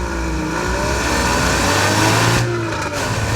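A Porsche Boxster S accelerates hard from standstill, its engine note climbing loud and close through the revs, with a brief dip around a gear change before pulling on.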